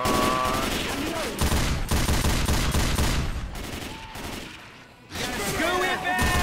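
Rapid bursts of video game gunfire crackle throughout a chaotic multiplayer shootout with Molotovs, loud and dense, dipping briefly near the end before resuming, with players talking over it.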